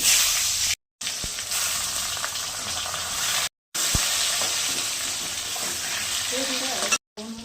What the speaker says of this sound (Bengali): আলু পটল সব ভেজে নিলাম।